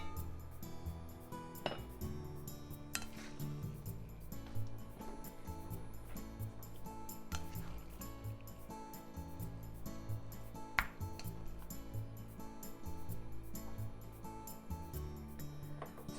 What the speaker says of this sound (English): The rice should be well steamed by now, so let's fluff it